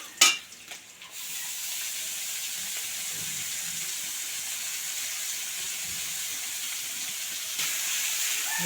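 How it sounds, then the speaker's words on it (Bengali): Chopped mustard greens frying with onion and green chilli in oil, a loud continuous sizzle and hiss that starts after a sharp clatter, steady and close with faint stirring underneath and a brief swell near the end. "দেওয়ার পর নাড়াচাড়া চলছে।"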